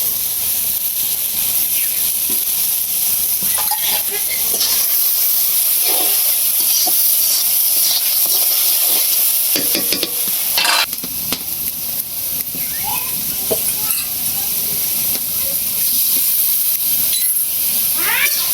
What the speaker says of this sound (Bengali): মশলাটা কষাই নিতেছি, হলুদ, লবণ, মরিচের গুঁড়া পরিমাণ মতো দিচ্ছি।